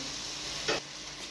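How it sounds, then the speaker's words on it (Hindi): Brain masala (bheja fry) frying gently on low heat, a steady soft sizzle with a brief louder stir or scrape near the middle, close by with no talk. "अब हमने इसे हल्की आंच पर भूनना है अच्छी तरीके से।"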